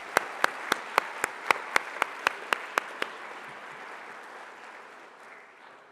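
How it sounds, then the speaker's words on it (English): At a Monroe Township Board of Education meeting honouring retirees, a dozen sharp, evenly spaced claps ring out close by in a steady rhythm, then stop, leaving a soft room hum that slowly fades. "one more round of applause for the retirees, Monroe Township School District 2026"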